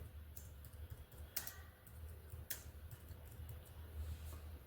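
Soft typing on a computer keyboard, a quiet patter of key clicks with a few sharper taps, faint and close over low background hum.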